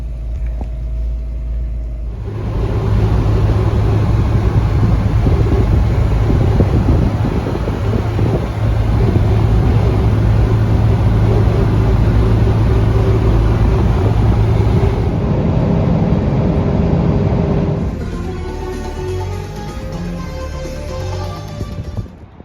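Steady loud engine drone and wind rush from a vintage car, likely the Alfa Romeo 2600 Sprint, driving continuously for most of the stretch before easing off near the end.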